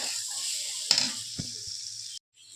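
Potatoes fry in oil in a home kitchen with a constant close hiss and two brief knocks from stirring, then the sizzle cuts off abruptly near the end.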